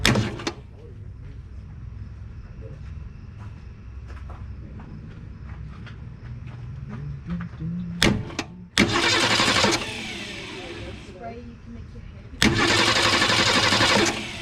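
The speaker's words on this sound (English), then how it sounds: "we're gonna bump the starter" The starter motor on a 1961 Ford Falcon delivery is bumped in short bursts: a low idle-like rumble, then two loud grinding cranking spells of about a second and two seconds, separated by a clunk, close by.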